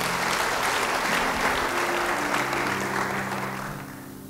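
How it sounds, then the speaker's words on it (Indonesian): A church congregation applauds in a dense, steady burst of clapping that slowly fades toward the end, with no talking over it. "Yang mau beri tepuk tangan bagi dia."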